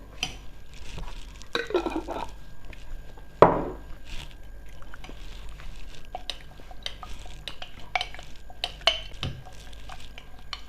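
Scraping and clinking of a utensil stirring tahini sauce in a bowl, irregular taps and swishes, close by, with one louder knock partway through.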